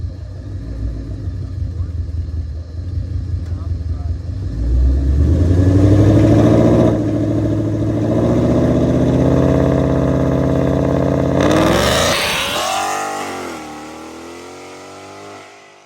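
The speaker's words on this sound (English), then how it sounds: "that was the smoothest and best launch without even doing a burnout" A Ford Mustang GT fitted with Viking shocks launches hard, its V8 engine revving up into a loud, sustained roar that climbs and shifts in pitch before easing off, with voices in the background.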